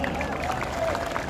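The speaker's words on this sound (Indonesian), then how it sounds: "Tepuk tangan buat kawan-kawan semua." A large crowd of workers at a May Day rally claps and cheers in a dense, continuous roar, with a steady wash of babble mixed into the applause.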